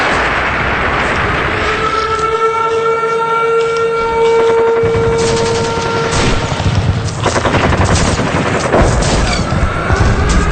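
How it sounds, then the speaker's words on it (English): Bombing sound effect of gunfire and explosions, a dense, loud, continuous barrage of blasts and rattling shots layered over wailing siren-like tones. "Back to the bombing."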